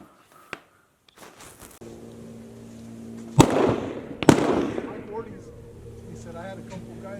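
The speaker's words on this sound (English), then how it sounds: "Okay, on to the shooting." Two sharp, loud gunshots from a Smith and Wesson 617-6 revolver fired outdoors, spaced about a second apart, each with a decaying echo over a low engine-like background hum.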